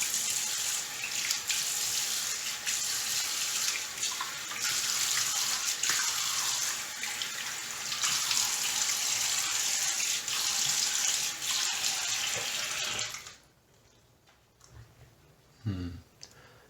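Bathroom tap water runs steadily into a sink for rinsing after a shave with a Gillette Old Type razor, then cuts off, followed by a few faint clicks and splashes.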